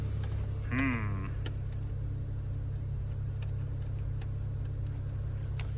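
The windshield latch of a 2010 Infiniti G37 convertible top, engaging too early, gives a brief motor whine followed by scattered light clicks over the car's steady idling hum.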